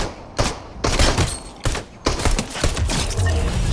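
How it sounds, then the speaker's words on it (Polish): Gunfire aimed at the player in Fortnite, loud bursts of rapid shots in quick clusters with short gaps between them, close and dense, continuing through the whole stretch. "Ktoś do mnie strzelił."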